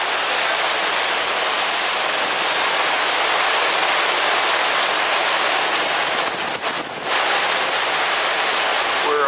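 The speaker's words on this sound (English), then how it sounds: "There's quite a bit of spray coming up over the side." Loud, continuous rushing of 10 to 12 foot ocean waves and spray coming over a boat's side at sea south of the Irish coast, a dense broadband wash with a brief dip partway through.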